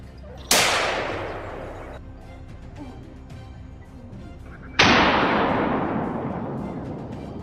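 Two loud gunshots fired at a wild boar on a mountainside, each a sharp crack with a long decaying echo, spaced about four seconds apart, with no talking.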